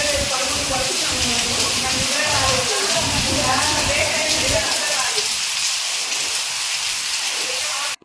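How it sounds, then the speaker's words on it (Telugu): Heavy rain with gusty wind pours outside an apartment as a steady, dense hiss; a voice talks over it for the first half, then the downpour carries on alone. "ఇక్కడ చూడండి వర్షం ఎంత బాగా వస్తుందో మీకు ఒకసారి వినిపిస్తాను సౌండ్ అనేది"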